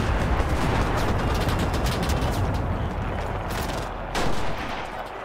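Dense, continuous gunfire from the World War II shooter Enlisted, rapid overlapping shots and bursts blending into a loud battlefield roar with a brief swell near the end.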